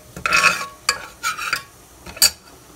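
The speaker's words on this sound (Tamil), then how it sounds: "இப்போ ஒரு குக்கரில் எண்ணெய் ஊற்றி இதில் ஸ்பைசஸை ஆட் பண்ணிக்கோங்க" Spices stirred in hot oil in a pressure cooker: a few short bursts of spoon scraping and metallic clinks against the pot, with a faint sizzle between strokes.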